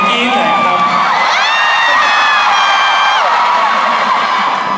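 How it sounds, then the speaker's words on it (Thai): An audience at a Thai stage show screams and cheers loudly and continuously, with high shrieks rising and falling over a dense crowd roar. "ขอเสียงกรี๊ดหน่อยครับ"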